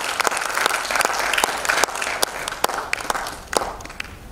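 An audience applauds in a Goa auditorium at a Telugu cultural event, a steady wash of many hands clapping with a few sharper, closer claps standing out throughout.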